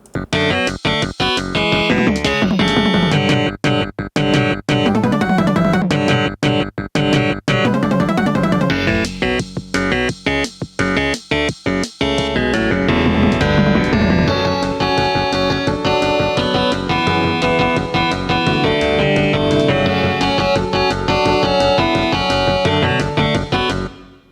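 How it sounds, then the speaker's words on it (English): Bright, beepy synth melody from a Sound Blaster AWE64 soundfont with thin, tinny tones like an old cell phone ringtone, playing continuously and loud with brief choppy gaps early on. "Yeah, it definitely sounds like an old cell phone."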